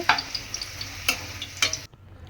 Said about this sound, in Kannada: ಕರಿಬೇವಿನ ಸೊಪ್ಪು, ಈರುಳ್ಳಿ ಹಾಕಿ ಫ್ರೈ ಮಾಡ್ಕೊಳ್ಳಿ 2 ನಿಮಿಷ